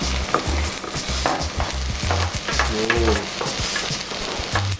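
Boiled broccoli, shrimp and salted egg tossed in a hot pan for a stir-fry: a continuous crackling sizzle with rhythmic scraping and clacking of a utensil against the pan, close and unobscured.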